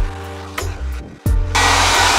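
Heat gun blowing on a drywall patch: a steady broadband whoosh with a low motor hum, interrupted briefly around the one-second mark, then returning louder and continuous to the end.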